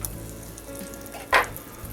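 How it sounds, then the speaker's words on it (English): Butter melting in a pan over medium heat gives a soft, steady sizzle, with one brief, louder crackling burst late in the moment. "I have my pan over medium heat. I'm going to add 2 tablespoons of butter"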